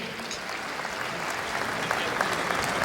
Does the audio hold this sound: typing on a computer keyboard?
no